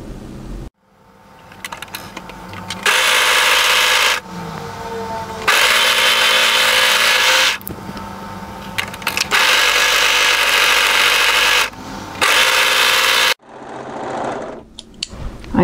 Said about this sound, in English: we're going to overlock first this side together and then this side together